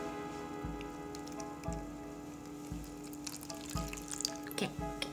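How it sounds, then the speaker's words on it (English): Water poured onto soil pellets for growing Mimosa pudica seeds, giving a soft, steady splashing and trickling patter with a few thumping drops, fairly quiet and alone. "let's pour in the water"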